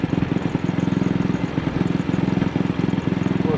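AJS motorcycle engine running at a very slight throttle opening with a misfire, a steady close chugging beat broken by small irregular stumbles, no voices.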